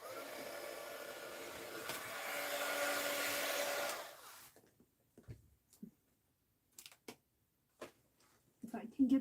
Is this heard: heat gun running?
yes